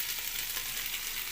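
Chicken pieces dropped into a pan of frying garlic-ginger paste, giving a steady, even sizzle with no talking over it.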